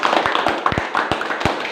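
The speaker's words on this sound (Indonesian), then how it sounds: "Coba lebih keras tepuk tangan." Audience members clap hands in a loose, uneven patter at an event, with sharp, close individual claps over a brief stretch and no talking.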